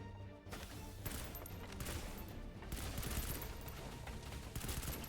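Sniper gunfire in a video game, sharp shots cracking out amid a dense, continuous barrage of loud game noise with no talking.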